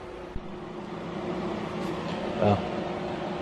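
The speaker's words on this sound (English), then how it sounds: "Apologies for the heater noise there." A heater runs in a garage during a car engine install, giving a steady, low mechanical hum with a faint whirring drone, a soft thump near the start and a brief louder rumble later, with no talking.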